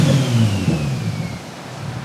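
An RB engine fitted with a MagnaFlow exhaust and running on an ethanol blend revs up close by, a loud, raspy rising growl that settles into a steady rumble.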